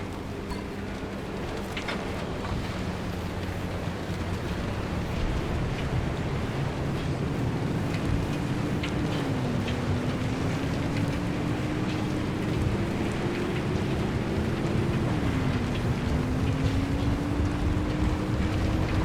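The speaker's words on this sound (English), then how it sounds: "How am I meant to avoid that downpour?" A heavy rainstorm roars in the video game Pacific Drive, a dense, steady wash of rain and wind with a low engine drone rising and falling beneath it, continuous throughout.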